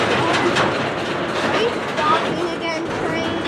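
A CSX mixed freight train slows to a stop near Brunswick, giving a steady rumble of rolling cars with faint clicks and squeals while people talk close by.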